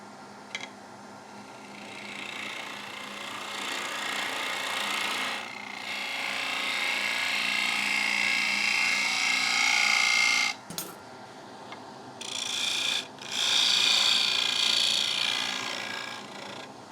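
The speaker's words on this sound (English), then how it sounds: "Just going to drop it in with the gouge and then just cut this bit off here." Power-driven gouge cutting into wood for a heavy-duty kids' plate, a sustained whining grind that rises and holds for several seconds, breaks off briefly, then resumes.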